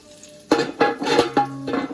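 Salmon patties frying in a pan, with several distinct clattering, sizzling bursts about every third of a second over a quiet background, close and moderately loud.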